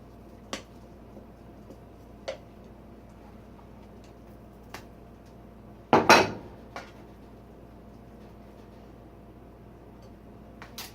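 A banana bread loaf pan goes into the oven with one sharp metallic clunk near the middle, set among a few faint scattered ticks and clicks in a quiet kitchen.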